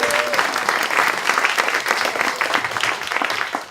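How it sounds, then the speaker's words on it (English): An audience at a community gathering gives a round of applause, dense close clapping from many hands that stays strong and even from start to finish. "So how about a huge round of applause for both of them?"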